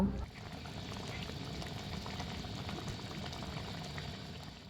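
Prawn malai curry gravy bubbles in a pan on the stove, a steady close-up simmering crackle that continues evenly throughout.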